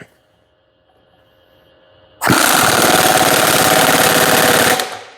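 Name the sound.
impact wrench tightening with 1 5/16 socket, 3/4 inch drive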